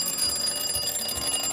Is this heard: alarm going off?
yes